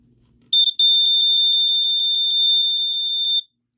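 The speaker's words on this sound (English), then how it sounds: "The LED stays constantly glowing as the alarm is sounding" A Sears Early One 246.57313 smoke detector with escape light, mid-production model, sounds a loud, shrill, rapid train of repeated electronic beeps for about three seconds after a brief low hum.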